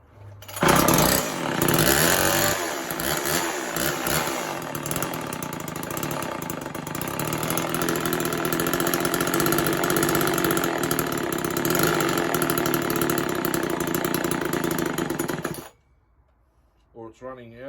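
An old Homelite chainsaw engine runs loud and close, revving and then settling into a steady rough idle for about fifteen seconds before cutting out abruptly into near silence.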